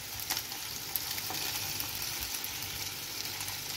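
Sole turbans with basil frying in a pan, a steady bright sizzle and crackle heard up close at an even level throughout, with nobody talking.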